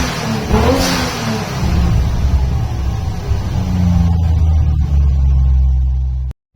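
A Toyota Supra Mk IV engine revs hard during a sound-capture session for a racing game, its loud, close rumble climbing and holding before cutting off abruptly near the end.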